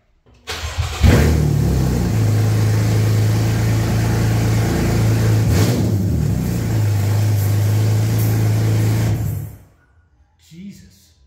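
A 2014 Porsche Cayman S (981) fires up on open exhaust headers with no mufflers, a harsh, loud engine start settling into a raw, throbbing idle with a blip of revs, then cutting off; a voice speaks briefly after.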